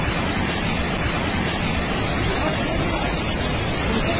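A river in spate after a cloudburst at Dharamshala, roaring as a loud, steady broadband rush of churning water with no break across the whole stretch.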